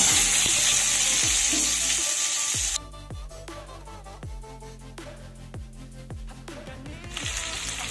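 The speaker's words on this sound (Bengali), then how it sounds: "এবার আমি প্রথমে এই পেঁপেটাকে একটু ভেজে নেব, তাই কেটে রাখা এই পেঁপেগুলোকে দিয়ে দিলাম।" Papaya pieces frying in hot mustard oil in a wok, a loud steady sizzle that drops sharply once the pieces go in, then continues as a quieter crackle with small pops and spatters.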